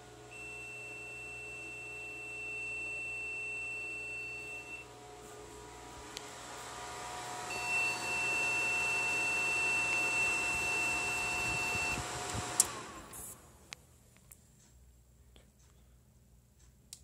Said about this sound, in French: on a bien entendu le PC qui pipait, donc un pipe long